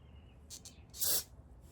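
Two quick faint hisses followed by a longer, louder spray burst from an aerosol can during servicing of a Honda EU1000i generator, close by in a quiet room.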